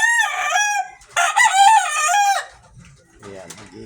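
Pet chickens and a rooster: the rooster belts out two loud, close crows in a row, followed by softer clucking and low noise.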